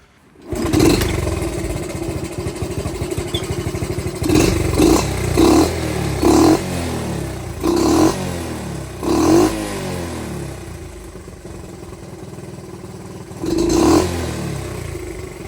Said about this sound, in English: We're going to bump our idle up a little bit more. That way we can get running again.